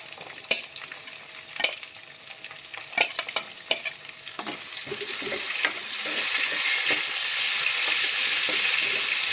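Onions frying in a pan for kadhi, starting with sharp clicks and scrapes of stirring, then swelling into a loud, steady sizzle that fills the second half.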